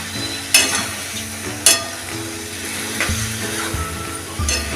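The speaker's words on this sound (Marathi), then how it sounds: "गूळ टाकून आता हे हलवून चांगलं आपण ह्या मेथी आंब्याला चांगला चटका आणून घेऊया।" Raw mango with jaggery, a fenugreek mango pickle, stirred in a pan while it cooks, giving a soft steady sizzle with two sharper scraping strokes near the start and lighter stirring afterwards, and no voices.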